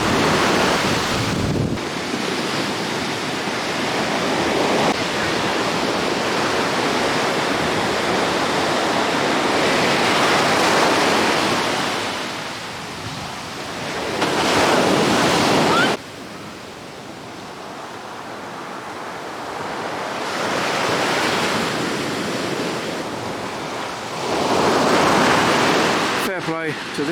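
Sea waves roll and break on a beach at Koh Samui, Thailand, making a loud, continuous roar that swells and fades in repeated surges, with wind buffeting the microphone.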